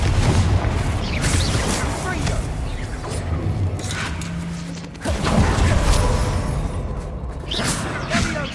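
In Hogwarts Legacy, a Confringo spell bursts into a booming explosion that swells after a brief lull, with rumbling mechanical creaks around it and voices speaking over the action.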